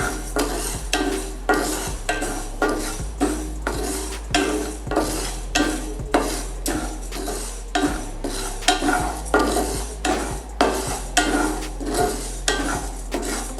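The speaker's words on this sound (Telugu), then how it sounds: "పెసరపప్పు తొందరగా రోస్ట్ అయిపోతుంది కాబట్టి జాగ్రత్తగా చేసుకుంటాం." Moong dal roasting in a pan, stirred steadily with a utensil that scrapes and clinks against the metal in an even repeating rhythm, loud and close over a constant low hum, without voices.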